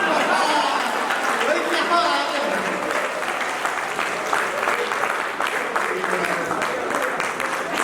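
A live audience at a Hindi comedy poetry show (hasya kavi sammelan) claps steadily, filling the whole stretch with dense, even applause mixed with crowd murmur.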